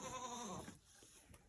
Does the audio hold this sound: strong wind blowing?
no